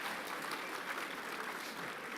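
A hall full of students at a school assembly claps in sustained, dense applause, steady and even throughout with no voices on top.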